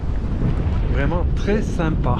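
Wind of about 12 to 15 knots rumbles steadily across the microphone on a boat off Anguilla, a loud continuous low roar while a voice talks over it.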